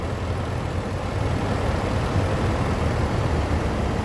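A 2017 Range Rover engine idles in a steady, low rumble without pause, close and even, with no voices.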